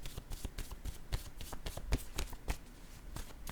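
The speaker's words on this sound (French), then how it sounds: "Ici, je vais déposer une carte." Tarot cards handled on a table: a run of crisp, close shuffling and slapping card sounds, irregular and fairly soft, with no voices.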